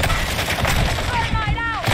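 Dense gunfire fills a brief, loud stretch of the video game Call of Duty Modern Warfare II, with shots running together into a continuous barrage.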